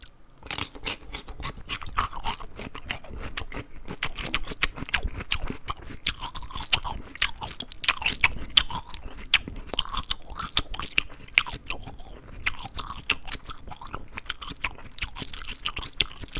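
Crunchy food being bitten and chewed close to the microphone in an ASMR session, a steady stream of loud, crisp crunches and mouth sounds with no talking.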